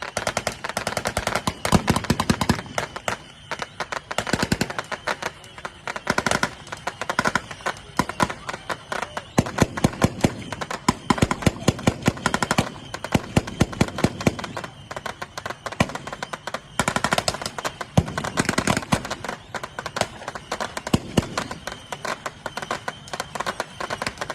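Dense, continuous gunfire from Allied forces laying covering fire at a WWII reenactment at a thresher show, with rapid bursts and single shots cracking over one another.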